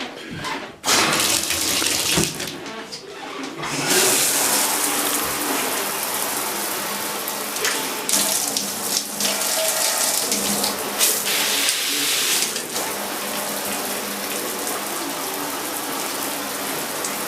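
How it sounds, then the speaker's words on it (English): Water rushes from a newly installed shower head onto a tub and shower surround, a steady loud hiss and spatter with a few brief surges and drops, with no voices. "so let's put the shower head on and give that a whirl."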